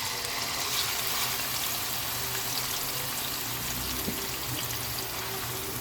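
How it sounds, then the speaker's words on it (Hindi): Marinated minced meat hits hot oil in a wok-style kadhai, giving a steady, loud broadband sizzle and hiss that runs unbroken from start to finish with no talking. "अब ये कीमा जो है मैं कढ़ाई के अंदर डाले देती हूँ।"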